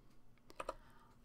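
A few quiet computer keyboard keystrokes, two sharper clicks close together amid faint room tone, while entering input in the JFLAP automaton software.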